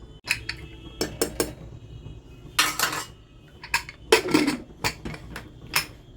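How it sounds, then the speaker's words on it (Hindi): Several sharp metallic clanks and clinks, irregular and close, as the metal lid is handled and fitted onto a pressure cooker. "और हम इसमें ढक्कन लगा देते हैं।"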